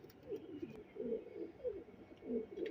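A male teddy pigeon cooing softly up close, a series of low rolling coos in quick repeated phrases with no talking.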